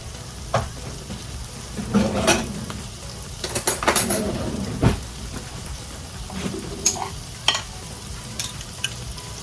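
Jerk seasoning, thyme and onions being stirred in a frying pan for rasta pasta, with a steady sizzle under repeated scraping strokes and clinks of a utensil against the pan, fairly close and with no talking.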